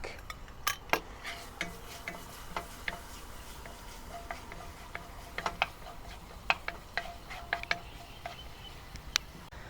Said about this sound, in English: Heat some oil in a pan and saute some minced garlic until aromatic.